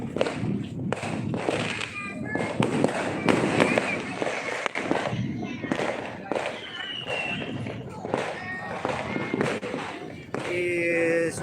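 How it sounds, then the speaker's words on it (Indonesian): Repeated sharp firecracker bangs crackle and echo across Makassar at New Year, scattered irregularly over steady background noise with faint voices. "Suara petasan menggema di seluruh kota."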